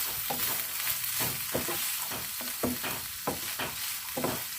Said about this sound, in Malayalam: ഉപ്പ് ഇട്ടിട്ട് വഴറ്റാം.